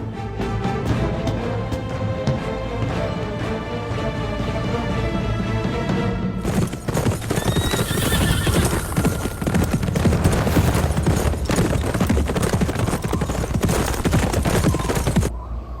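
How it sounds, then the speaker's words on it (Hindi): A horse clip-clops along under a dramatic music score, steady hoofbeats running throughout, with a denser rush of hooves and noise in the second half. "उस्मान अपने घोड़े पर शुमाल की जानिब जा रहा है।"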